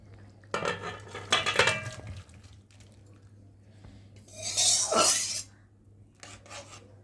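A metal pot of curry lifted off a kitchen stove, with a few clanks and scrapes of metal on metal, then a longer rasping scrape, over a steady low hum.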